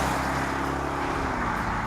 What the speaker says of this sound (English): So on the move, the big Bentley's Mulsanne Speed does feel really rather magnificent.